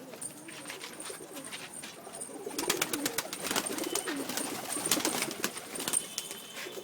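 Pigeons cooing and calling at a rooftop loft in Ujjain in hot sun, including a very old trained flying pigeon, with a steady chorus of coos and soft fluttering that grows busier and louder partway through.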